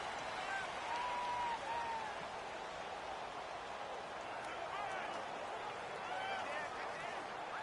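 Loud, steady roar of a home crowd at an American football game, a continuous wash of cheering and noise with faint whistle-like tones rising through it.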